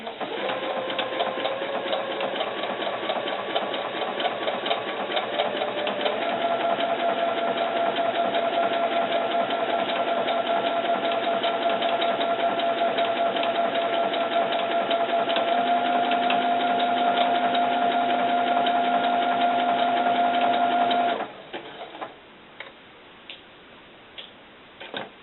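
A sewing machine stitches a doll belt around a curve in a steady, continuous mechanical whir with a fast ticking rhythm, close and alone, stopping abruptly near the end.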